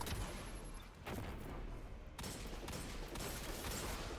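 Rockets fired at an ogre in Destiny 2, coming as dense, crackling explosive bursts in quick succession, broken by two abrupt cuts, loud and close with no talk.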